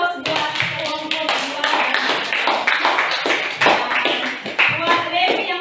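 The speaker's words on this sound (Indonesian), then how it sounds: "Berikan aplaus buat kelompok" A group of students in a classroom gets a round of applause after their presentation, with steady clapping from many hands that runs the whole time at a lively, even level, broken only by a few scattered louder claps.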